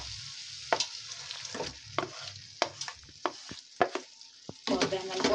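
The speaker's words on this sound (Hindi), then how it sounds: "अब मैं इसमें ये बैंगन डाल दूंगी।" Roasted eggplant tipped into a pan of frying masala and peas, then stirred: a steady low sizzle under repeated sharp scrapes and clinks of a spoon against the pan, with a louder burst of frying toward the end.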